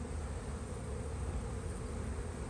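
Honeybees packed into a full brood box of a spring hive, giving a thick, steady buzzing drone close by that holds even throughout, with no talking.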